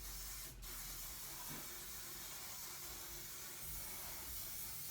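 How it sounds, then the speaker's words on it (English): A continuous aerosol spray hisses close by, a steady faint rush with a brief click near the start. "crunch and spray my hair"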